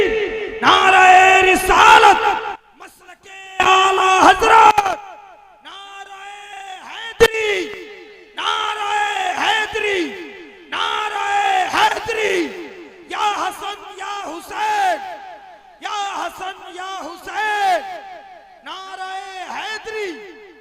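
Crowd chanting religious slogans at a Jashne Madar Shah naat gathering, a lead voice calling and many voices roaring back in loud bursts, repeated about seven times over twenty seconds.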